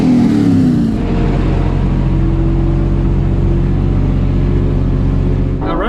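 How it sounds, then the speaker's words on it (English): A white Foxbody Turbo Mustang drag car on big tires and beadlocks, fitted with a parachute, roars loudly at a quarter-mile strip, its engine droning steadily with rising pitch sweeps near the end, close and continuous. "this white Foxbody Turbo Mustang got a parachute"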